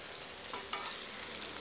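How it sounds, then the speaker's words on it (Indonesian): Tempeh frying in hot oil in a home kitchen, a soft continuous sizzle with light crackles and a brief stirring scrape partway through, fairly quiet and without talk. "tak goreng tempe dhisik"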